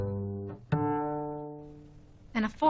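A musical fifth played as the opening notes of Twinkle Twinkle Little Star: a sustained tonal note followed by a higher note struck on top and slowly decaying, clean and alone, with a brief voice entering at the end.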